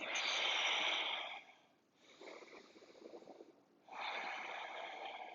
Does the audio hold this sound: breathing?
yes